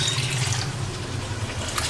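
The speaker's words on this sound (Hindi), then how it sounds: "इसमें डाल देते हैं बहुत सारा पानी" Water pours steadily into a cooking pot of washed sela rice for yakhni, a continuous close splashing gush with no talk over it.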